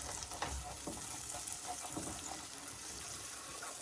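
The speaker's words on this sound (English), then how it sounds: "And put it back on here and then give it a little mix." Tomato puree mixture is stirred in a pan on the stove, a soft continuous scraping and faint sizzle with a few light knocks, quiet and close.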